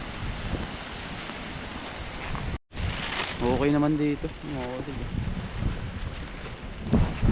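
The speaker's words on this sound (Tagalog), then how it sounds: "Kasang hangin." Gusty wind roars against the microphone, with a brief dropout early on and a person speaking over the blustery rumble.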